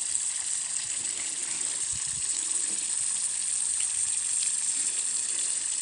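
Water poured over zinc to wash it in a chemistry lab during a sodium dithionite preparation, a steady close gushing, splashing flow that runs without pause throughout.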